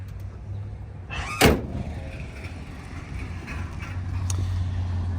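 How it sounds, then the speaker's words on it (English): The hood of a 1973 Oldsmobile Cutlass S slams shut with one loud, close thud that cuts briefly through a steady low background hum. "We will close up the hood now."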